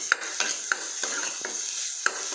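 Cabbage being lightly sautéed in ghee in a pan, a soft sizzle under a series of quick scraping stirs and light utensil taps, about six strokes in a steady rhythm, close and fairly quiet.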